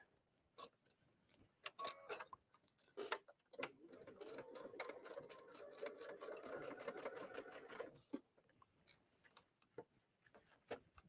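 Sewing machine running a straight stitch at 3.0 length, quick ticking bursts that build into a steady whirring run of about four seconds before tapering back to scattered clicks, close and fairly quiet, no talking.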